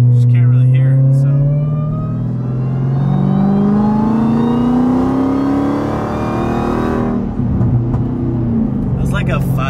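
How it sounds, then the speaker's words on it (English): Modded Dodge Hellcat engine at light throttle while driving, a steady loud low drone with rising harmonic sweeps as it pulls through the gears, settling after a shift near the end; a voice talks over it. "when I get on the Hellcat, it still is really loud"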